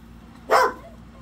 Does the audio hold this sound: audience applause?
no